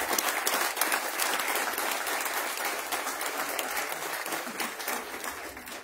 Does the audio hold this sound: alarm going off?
no